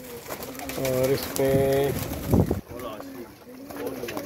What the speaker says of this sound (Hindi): ये सहेल अंसार खान साहब वाले कबूतर हैं